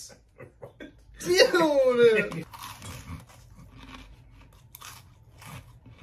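Freeze-dried Rice Krispies crunch loudly as someone chews them, with a dense burst of crackling up close followed by softer munching, while people talk and react around it.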